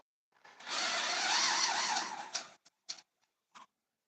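A power drill whines for about two seconds as it bites through metal in a forge workshop, then stops, followed by a few short bursts.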